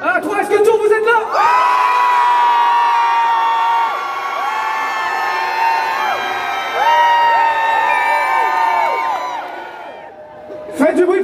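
A large festival concert crowd at Japan Tours Festival 2025 shouts and cheers together, loud and sustained for about eight seconds, with a host's voice before and after.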